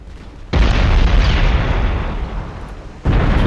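Torpedoes striking the Tsarevich, a pre-dreadnought battleship in a naval combat game: two heavy, close explosions, the first a long roaring boom that slowly fades and the second bursting in just as it dies down.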